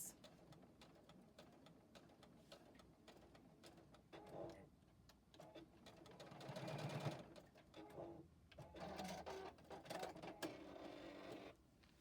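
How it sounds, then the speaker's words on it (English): A JUKI sewing machine stitches back and forth over a loop and tie on a storage roll-up, its steady mechanical ticking and whirring swelling in short runs, close and fairly quiet, with no talking. "I am going to go back and forth 2 or 3 times to really secure that in place."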